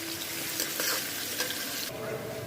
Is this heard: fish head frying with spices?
yes